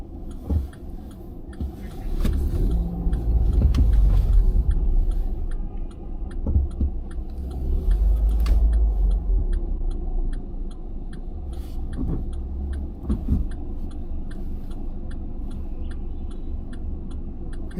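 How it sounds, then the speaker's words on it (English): Car engine rumbling close by at a chaotic street corner in China, low rolling drive noise swelling and easing as vehicles move past, with faint ticking and clicks over a steady traffic bed. "This car is just coming out."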